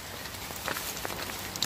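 Steady rain falls along the Camino del Norte pilgrim route between Priesca and Villaviciosa, a soft continuous hiss with faint scattered drops and possible footfalls, fairly distant and without voices.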